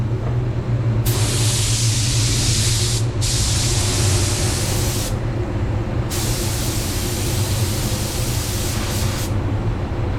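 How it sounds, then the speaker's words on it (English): A Walcom Ego Mini paint spray gun hisses in steady bursts of clear coat at 30 psi, broadband and close, with brief gaps between passes over a constant low hum. "I have to spray somewhere where I can see, because I haven't done much spraying with this gun."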